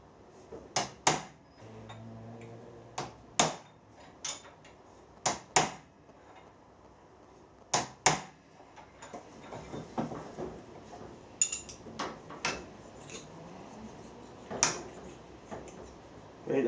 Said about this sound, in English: put a couple of centre pop marks in the middle of the shaft.